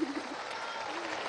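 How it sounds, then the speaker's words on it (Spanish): An audience at a national youth congress in Venezuela claps in a brief burst of applause, with a voice talking over it. "Vamos a darle un aplauso, Urieli, por las propuestas que trajo de la"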